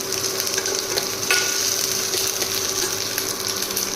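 Food for a homemade chicken curry fries in a pan, a steady close sizzle and crackle with light scraping as it is stirred, and no talking.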